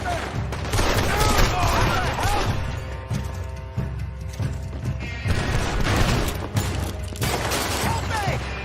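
Gunfire in Red Dead Redemption 2, a chaotic burst of shots and clattering mechanical bangs repeating in clusters through a noisy fight, with shouting voices mixed in.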